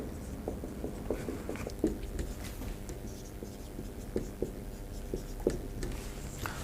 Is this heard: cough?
no